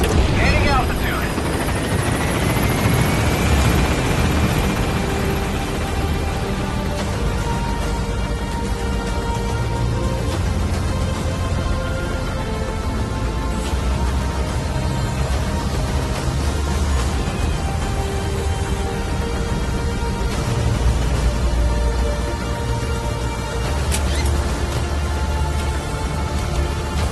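A video game extraction helicopter climbs steadily, its rotor and engine drone loud and continuous throughout, with voices and game sounds layered over it.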